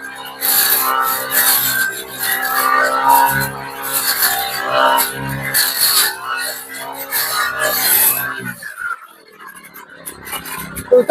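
A brush cutter blade cuts through vines and a tree on a farm, giving a loud, continuous rasping, scraping grind that surges and eases for about eight seconds before dropping to quieter rustling.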